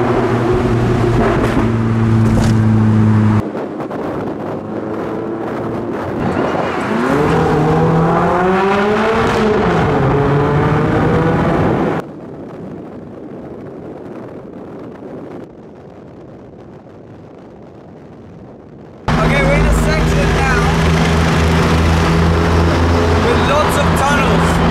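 A Porsche GT3 pulls away onto Alpine mountain roads, its engine rising and falling through gear changes under heavy wind rush, with a quieter, muffled stretch before the loud driving noise returns.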